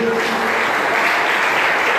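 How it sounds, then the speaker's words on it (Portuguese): A church congregation applauding during a service, a dense, steady wash of clapping that holds evenly from start to end, with faint voices mixed in. "Mais uma vez aplaudo o Senhor."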